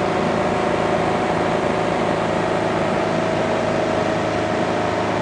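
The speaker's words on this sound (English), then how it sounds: "now I'm going to throttle back a little bit and establish another westerly heading here" An Onex light aircraft engine drones steadily in flight as it throttles back toward cruise, a constant close hum with slight wind noise and no talking.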